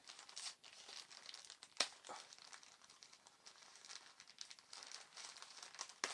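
Close, quiet crinkling and tearing of a plastic package holding a spring net for fishing as it is opened, with irregular rustles and one sharper rip partway through.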